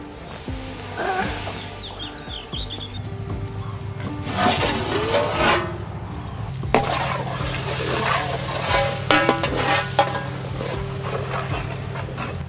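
Chicken drumstick curry (kulambu) cooks in a pan with a steady bubbling sizzle and occasional louder spattering bursts, close and continuous with no talk.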